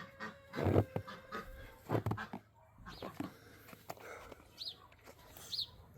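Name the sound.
ducks quacking outdoors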